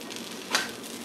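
A paleo pumpkin pancake fries in a pan, giving a soft, steady sizzle with one brief louder crackle partway through.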